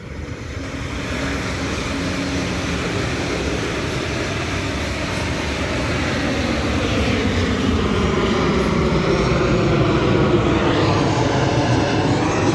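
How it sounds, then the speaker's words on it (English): Virgin Airlines passenger plane flying over a railway station, a loud jet roar that swells steadily and holds, with no talk. "Virgin Airlines"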